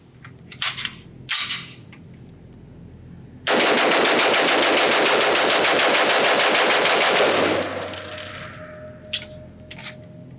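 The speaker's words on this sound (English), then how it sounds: "I know you guys want to see the gun being shot fast." FN Herstal SCAR 15P 5.56 rifle emptying a full magazine in rapid fire, a loud, dense string of shots lasting about four seconds after a few separate cracks, then ringing out with scattered clinks.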